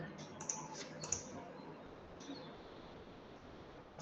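Computer keyboard typing at a weekly tech security meetup, quiet irregular key clicks with a few sharper taps over a soft room hum.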